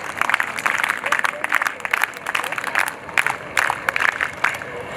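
Girls in an audience applaud at the closing ceremony of a girls' character-building camp at an institute in Agra, with dense clapping that swells and dips in waves, moderately loud, under a speaker's voice.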